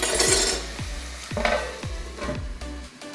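Half a kilo of chicken, washed and rubbed with salt and turmeric, is stirred into sautéed tomatoes in a pot; a steady sizzle carries a series of rhythmic spoon scrapes against the metal, close and fairly loud.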